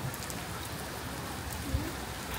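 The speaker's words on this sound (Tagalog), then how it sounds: "Sobrang ulan." Rain falls steadily during a typhoon with flooding nearby, a soft continuous hiss of drops on surfaces heard from some distance, fairly quiet and unbroken.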